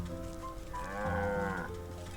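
A cow in the video game Wytchwood lets out a single drawn-out moo, clear and close, rising in the middle before trailing off, with no voices over it.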